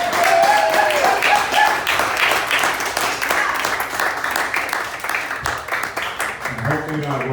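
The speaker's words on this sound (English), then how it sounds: "Everyone give them a big round of applause" An audience at a highland dancing and bagpipe club event bursts into sustained applause and cheering, dense and lively, with voices talking and calling out over the clapping.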